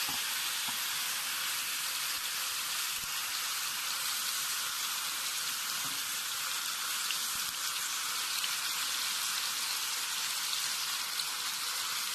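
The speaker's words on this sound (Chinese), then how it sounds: "然后将所有牛肉都倒在锅里" Beef pieces dropped into hot oil in a pan over medium-high heat for Japanese potato and beef stew, giving a loud, dense, continuous sizzle that crackles steadily throughout with no voices.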